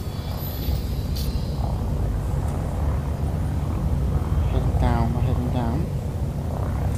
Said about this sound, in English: Different engine sound now.